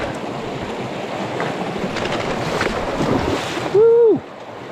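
Stream crossing on a hike in Great Smoky Mountains National Park at Cataloochee, with a rushing, splashing water wash that builds steadily and then cuts off as a voice briefly calls out near the end.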